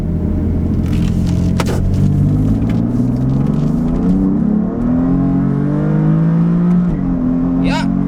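A BMW F80 M3 with a Bootmod3 Stage 1 ethanol tune accelerates hard in sport mode, its engine note climbing through rising gears with a deep loud rumble from inside the car, with a brief shift dip midway.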